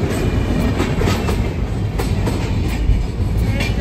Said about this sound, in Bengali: আমি ভেবেছিলাম ট্রেন যাবে না, ট্রেন যাচ্ছে